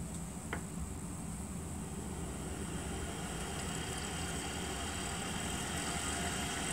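Tesla Model S high-efficiency drive unit with a 9.3:1 differential, run on a 60-volt battery under light throttle: a steady, low, even whir and hum with a faint high whine, continuous and unchanging, with one brief click near the start.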